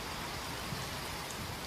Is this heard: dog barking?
no